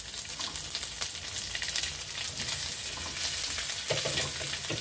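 Sliced onions sizzle and crackle in hot oil in a pan where tilapia has been fried for a chilli garlic sauce. The frying sounds steady and close, with light stirring and no voices.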